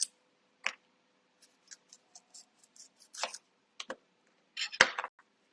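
Knife slicing an onion into rings, heard as a series of short, sharp cutting clicks and taps at an uneven pace, with a louder cluster of cuts near the end, close up and without talk.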